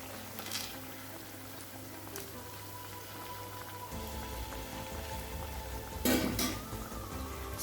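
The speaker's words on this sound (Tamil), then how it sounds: "நம்ம எண்ணெயில் போட்டு பொரிக்க ஆரம்பிச்சிடலாம்." Sago vadas frying in hot oil on a stove, a steady crackling sizzle with a sharper burst of bubbling near the end, close and moderately loud with no talking.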